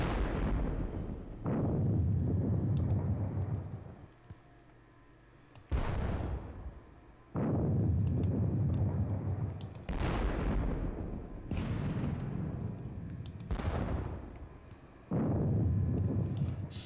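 Artillery guns fire in a Napoleonic wargame set at the Battle of Friedland, sounding as a series of about six heavy booms, each with a sharp onset and a long rumbling decay, spaced a few seconds apart.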